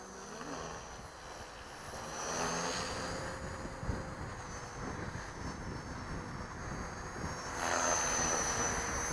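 A remote-controlled helicopter, a V450D03, hovers nose-in at a work site, giving a steady, fairly faint whirring rotor and motor drone that swells slightly, heard alone.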